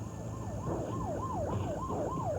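Ambulance and fire engine sirens arrive at a car crash scene, a loud wailing siren rising and falling in a steady repeating sweep over a low vehicle rumble, with no talk.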